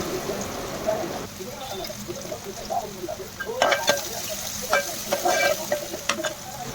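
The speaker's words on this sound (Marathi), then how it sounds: "लसूण लालसर फ्राय करून झाल्यानंतर आपण त्यामध्ये दोन मोठे बारीक चिरलेले कांदे ॲड" Chopped onions and garlic fry in a pan for a spicy crab curry, a steady close sizzle broken by bursts of spatula stirring and scraping.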